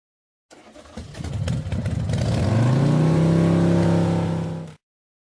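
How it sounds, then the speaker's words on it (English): A flying motorbike engine, used as a sound effect in a Sims 3 audiobook, kicks in sharply, revs upward with a rising whine, holds a loud steady drone, then cuts off abruptly. "I'll be taking Sirius's bike back."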